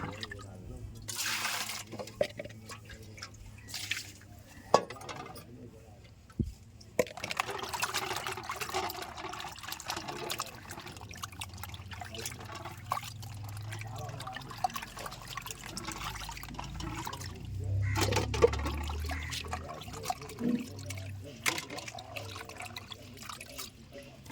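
Water runs and trickles faintly while fish is rinsed in a small plastic bowl, with soft splashes and drips scattered throughout amid quiet handling noises.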